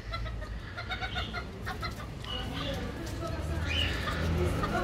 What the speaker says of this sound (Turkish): Kümesimize kan değişimi için gelen horozumuz bu.